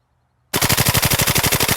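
A WE ModK16 gas blowback airsoft rifle fires on full auto: a sudden burst of rapid, evenly spaced loud pops, about a dozen shots in just over a second, close up after silence.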